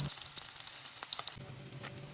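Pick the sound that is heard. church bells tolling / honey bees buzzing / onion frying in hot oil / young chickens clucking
onion frying in hot oil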